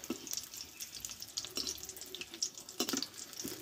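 Bengali-style green tomato chops fry gently in oil over low heat. Soft, faint bubbling and light crackles come in short, uneven bursts, with no voices.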